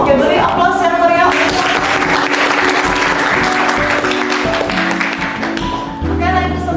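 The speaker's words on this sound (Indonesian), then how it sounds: "beri aplaus yang meriah" Classroom students break into loud, sustained applause that swells quickly and fades after several seconds, with a tonal tune playing underneath and a voice heard at the start and end.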